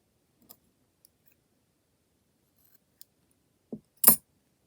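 Scissors snip through yarn after crochet work, giving one short crisp cut near the end after a few faint ticks, close and alone with no talk.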